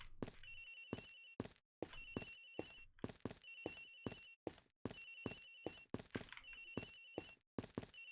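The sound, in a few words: phone ringing in video game Ace Attorney Investigations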